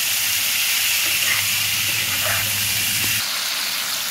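Lemon-and-pepper marinated chicken fries in hot oil with a steady, loud, hissing sizzle that fills the scene; a low hum runs underneath and cuts out near the end while the frying continues.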